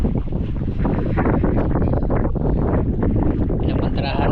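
Strong wind gusts roar across the microphone on a wooden boat, loud buffeting rumbles that rise and fall throughout, with a person talking briefly.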